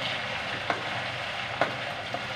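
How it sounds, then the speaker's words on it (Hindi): Sabudana (tapioca pearls) fry in a pan, giving a brief, steady sizzling hiss broken by a few distinct clicks or taps, close and moderately loud, with no voices. "साबुदाना जो है इसको फ्राई करेंगे"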